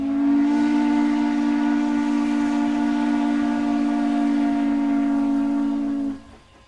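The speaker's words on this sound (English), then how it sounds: "the lonesome whistle's a regular thing to hear." A steam train whistle in Utah's Heber Valley sounds one long, loud, steady blast with a rich harmonic tone, then cuts off abruptly.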